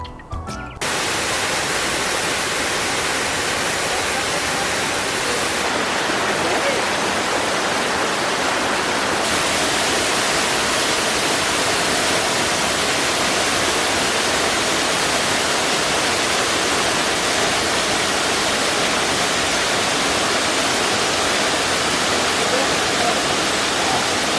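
A waterfall roars in a forest stop during a Jeep trail outing at Windrock Park, a loud, dense and constant rushing of water that fills the whole stretch without letup.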